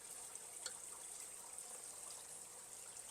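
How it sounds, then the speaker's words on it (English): Beef broth pouring into a soup pot of hamburger soup, a faint, steady liquid trickle and splash held at low level for a few seconds. "we're going to pour in our 2 cups of beef broth on top of that"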